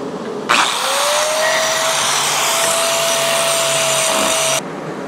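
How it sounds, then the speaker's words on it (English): An angle grinder shapes the metal point of a pyramid on a Frontier DM 5060 breakaway, spinning up with a steady loud whine and harsh grinding hiss for about four seconds before cutting off abruptly. "So let me get in here and grind this off of there."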